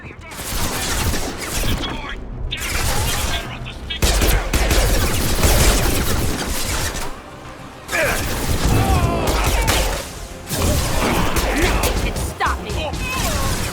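Mass Effect 2 gunfire rattles in dense, loud bursts with sharp impacts, broken by brief lulls, while voices speak over the fighting.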